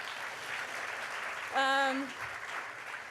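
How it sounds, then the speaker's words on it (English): Applause from an audience at a large anti-bullying school assembly, a dense wash of clapping with a brief high whoop or cheer rising in the middle. "another round of applause, because you're just amazing"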